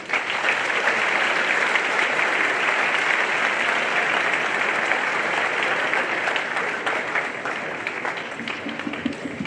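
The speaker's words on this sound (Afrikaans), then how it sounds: "julle kan vir julle lekker hande klap." An audience at a school opening claps their hands in sustained applause, a loud, even roar of many hands lasting the full stretch before tapering a little near the end.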